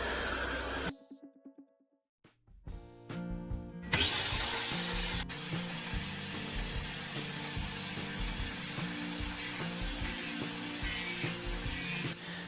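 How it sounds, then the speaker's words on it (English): Drill bit sharpened against a spinning grinding wheel: brief scrapes and taps, then a motor spins up with a high whine and a steady harsh grinding rasp continues, close and loud. "As the cutting edge touches the wheel, rotate the drill bit clockwise just like this."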